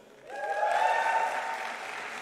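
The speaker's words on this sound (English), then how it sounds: "Please join me in a round of applause to these graduates." Applause from an audience at a university commemoration day ceremony for chemistry graduates, a sustained burst of clapping that swells quickly and holds steady, filling the hall with no talk over it.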